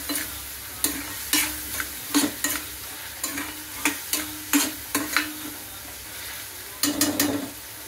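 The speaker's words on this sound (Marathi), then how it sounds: "तेलाने सगळं परतून घ्या चांगल्या प्रकारे।" Spices with turmeric and salt sautéed in oil in a pan, a steady sizzle broken by a series of sharp spatula scrapes and stirs, close and fairly loud, with no talking.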